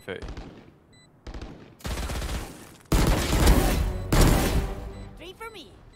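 Shooter-game gunfire arrives as loud, close rapid automatic bursts in several separate volleys, each a few seconds long, with players talking around them.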